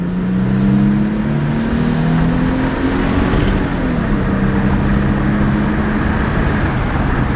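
A car pulling hard on a straight road in Mexico: a loud, continuous engine drone with a rising then easing pitch, heard from inside the cabin over steady road noise.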